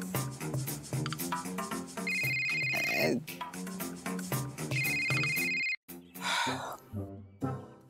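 A telephone rings in a domestic drama scene, its steady electronic trill coming in two clear bursts over background music, with a brief gasp or sigh between them.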